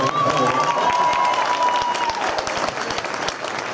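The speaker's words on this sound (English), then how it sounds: "We can clap for that." A crowd applauds at a high school marching band show in a large hall. The clapping is loud and continuous, with sharp individual claps and some voices in the background.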